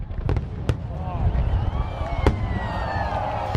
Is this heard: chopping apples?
no